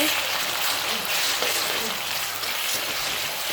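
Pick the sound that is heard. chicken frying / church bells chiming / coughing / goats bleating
chicken frying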